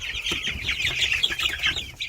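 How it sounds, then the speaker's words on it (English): Meat chickens clucking continuously at close range in a farm setting, a busy overlapping chorus of short clucks with no talk. "The meat chickens are right here."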